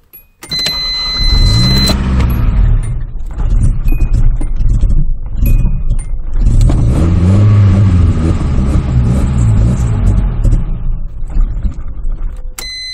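A Nissan 240SX with a turbocharged KA24DE-T engine that has a fault, running close by and loud, with two rising revs and a rough, uneven idle between them.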